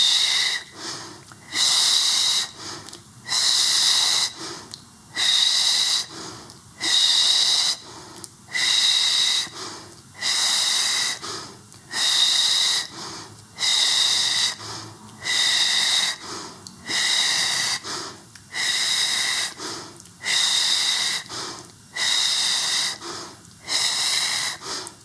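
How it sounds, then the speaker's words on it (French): Repeated forceful breaths during a Pilates exercise, about a dozen airy hissing exhales and inhales in a steady rhythm, close and fairly loud with no talking. "Et j'expire."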